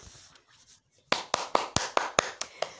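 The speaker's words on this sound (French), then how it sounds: "C'est moi qui va vous applaudir toutes les deux" A teacher claps her hands in a classroom, nine crisp claps in a quick, even rhythm, close and clear after a moment of quiet.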